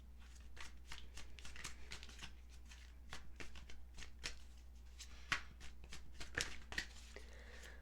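Tarot cards are shuffled and drawn by hand, a quick run of soft papery riffles and flicks, close and fairly quiet, with a steady low hum underneath and no talking.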